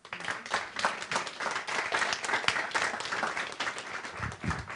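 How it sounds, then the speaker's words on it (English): Church congregation applause, steady and full-bodied, many hands clapping together at moderate distance for the whole stretch. "Give them a round of applause."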